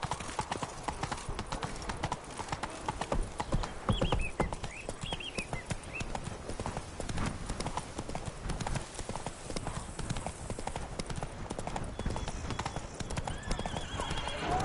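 A horse gallops in The Witcher 3 game with a steady, rapid clip-clop of hooves and an occasional neigh, heard under a dense wash of game music and ambience.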